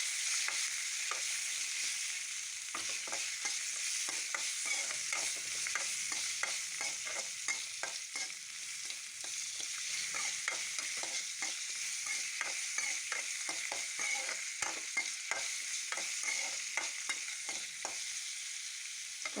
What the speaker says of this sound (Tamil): உப்பு போட்டால் தாங்க கொஞ்சம் தக்காளி நல்லா வதங்கும்.